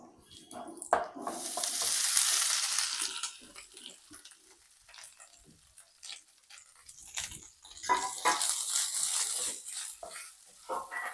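Grated coconut and cardamom being stirred into a sizzling pan mixture with raisins, a spoon scraping and clinking against the pan over steady frying hiss that swells and eases in waves.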